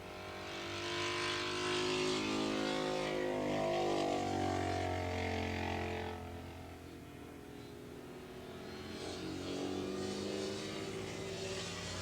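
Yamaha 450 modified production racing motorcycles at Willow Springs Raceway, engines roaring at a distance, swelling as they pass, fading, then building again over about twelve seconds.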